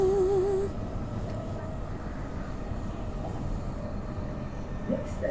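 A Transperth B-series electric train hums along the Joondalup line in a steady, even onboard drone with a brief tonal whine at the start and no talking.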